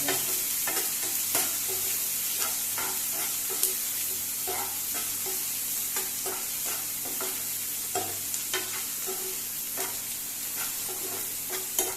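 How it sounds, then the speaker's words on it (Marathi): Onion fries in a pan for Goan green chicken, a constant soft sizzle broken by a regular rhythm of spatula scrapes and taps against the pan, close and moderately quiet. "आतां हो कांदो असो फ्राय जावपाक जाय, सारको गोल्डन कलर येवपाक जाय"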